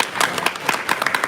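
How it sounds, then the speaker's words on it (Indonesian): A crowd of young people at a Bandung gathering breaks into brief, fairly close applause with scattered sharp claps. "Tepuk tangan untuk semuanya."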